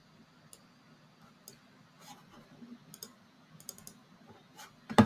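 Computer mouse clicked while grouping shapes in drawing software: soft, sparse clicks scattered over a quiet room background, ending in one sharper, louder click.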